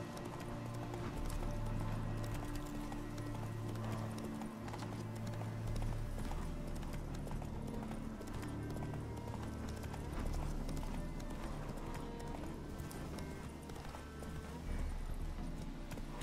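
Horse hooves clip-clop at a steady gallop in The Witcher 3: Hearts of Stone, with occasional whinnies over a busy, continuous game soundscape and a voice speaking briefly.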